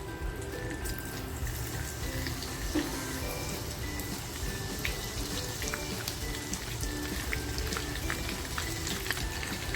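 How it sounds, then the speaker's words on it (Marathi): Garlic dropped into well-heated oil, giving a steady, even sizzle and crackle throughout, moderately quiet with faint kitchen background. "तेल बघा छान तापलेलं आहे लसूण टाकते"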